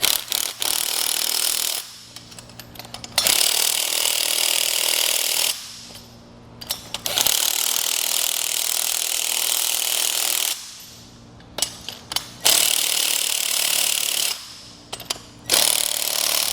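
A 9/16 socket driving U-bolts on a Malone MegaSport trailer's saddle-style carrier: repeated loud mechanical whirring bursts, each several seconds long and separated by short pauses, with no talking.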